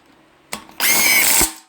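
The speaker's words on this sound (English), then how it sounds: "Let's go ahead and tighten down the nuts for the windage tray. This is all you need, impact or hand tight, whichever." An impact wrench runs down the windage tray nuts on an LS engine oil pan, with a short first hit and then a steady loud buzzing burst of under a second, close up with no talking.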